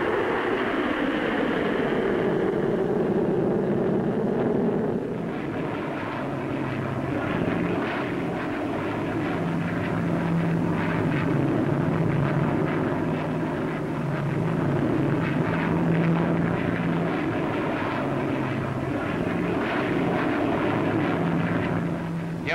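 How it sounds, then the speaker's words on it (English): Avro Vulcan delta wing bombers taking to the air at the 1953 Farnborough Air Show, a continuous loud roar of jet engines whose pitch shifts and swells steadily, with no voices over it. "We see the first two Vulcans taking the air."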